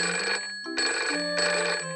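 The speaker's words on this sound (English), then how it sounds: "Daddy Pig had better call Grandad Dog's garage and ask for help." A cartoon telephone rings in two short electronic trilling bursts with a brief pause between, clear and alone.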